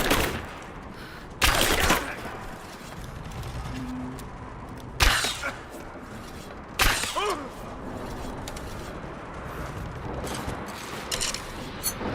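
A few sharp, isolated gunshots ring out in the video game Rise of the Tomb Raider. Three or four loud cracks are spaced several seconds apart over a quiet, rustling background.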